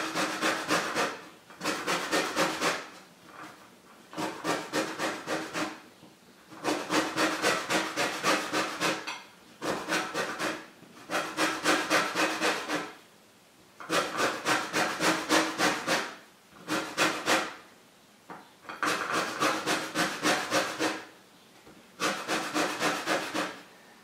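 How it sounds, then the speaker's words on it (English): Orange zest being grated on a hand-held cheese grater, a series of steady rasping strokes in bursts of about one to two seconds, close and fairly quiet, with short pauses between passes and no talking. "so I'm just going to use this cheese grater."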